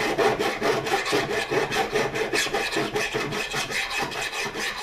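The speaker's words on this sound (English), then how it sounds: "I've got a flat file here, a very fine flat file. And don't push down, just push backwards and forwards." A very fine flat file pushed back and forth across brass bullet tips, a steady close rasping rhythm of quick repeated strokes, loud and continuous with no talk.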